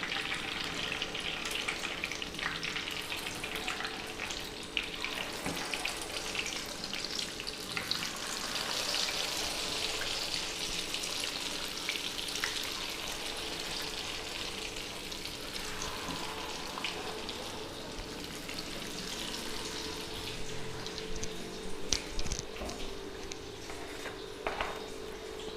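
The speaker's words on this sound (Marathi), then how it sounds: "थांब की फ्राय करू दे की" Chicken pieces for chicken 65 fry in hot oil with a continuous, even sizzle and crackle that holds steady throughout, close and moderately loud with no talking.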